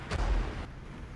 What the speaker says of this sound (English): Look at those machine gun shells just flying